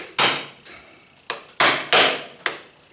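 Five sharp hammer blows, irregularly spaced, strike rivets on the track of a 1974 Polaris Custom II snowmobile during a track repair; each impact rings briefly and decays, close and loud, with no talking.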